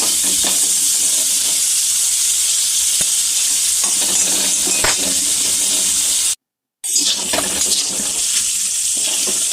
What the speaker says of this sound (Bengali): একটু নেড়ে চেড়ে কাঁচা কলাটা ভেজে নিলাম।